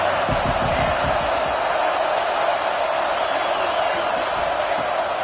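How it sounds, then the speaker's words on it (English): Stadium crowd noise roars from a college football video game, a dense, constant wash of cheering with a few thumps early on and no break. "This crowd bringing the energy and noise early."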